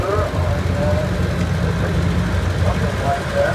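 An Allis Chalmers tractor engine idles with a steady low rumble during a tractor parade, with a loudspeaker voice talking over it throughout.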